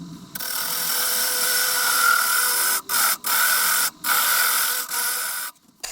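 A wooden vase spinning on a lathe is roughed with an Easy Wood mid-size carbide rougher, giving a steady, loud, high scraping whir that cuts off briefly several times as the tool lifts from the wood.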